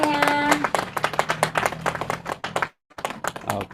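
Audience applause at a book launch event, a burst of close, dense clapping with voices mixed in, fading out briefly before more scattered claps resume.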